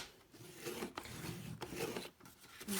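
An A4 card sheet being scored for a Dutch door card, a series of dry rasping strokes with short pauses between them, quiet and close, with no voice.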